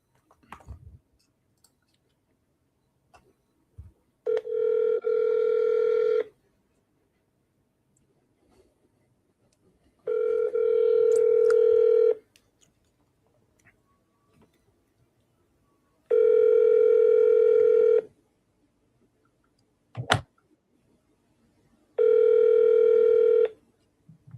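Telephone redial with four steady dial-tone bursts of about two seconds each, separated by near silence and a few faint clicks, sounding alone.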